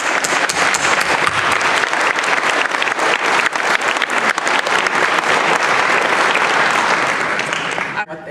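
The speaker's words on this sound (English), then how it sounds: "Please clap." Banquet audience applauding a thank-you, a loud, continuous roar of many hands clapping close by, holding steady for several seconds before cutting off abruptly, with faint voices mixed in.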